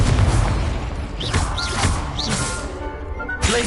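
Confringo explosive spell blasts in the Hogwarts Legacy video game, a dense run of loud booming crashes and whooshing bursts with swishing sweeps over steady game noise, ending in a sharp impact.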